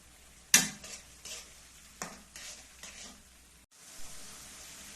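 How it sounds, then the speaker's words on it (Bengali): Small shrimp stir-fried in a spice paste for a bitter gourd dish, soft sizzling with a sharp spatula clack at the start and several lighter scrapes and taps spaced through, close but fairly quiet, no talking. "ভালো করে মশলা কষিয়ে এর মধ্যে চিংড়ি মাছগুলো দিয়ে দেব এবং ভালো করে কষিয়ে নেব"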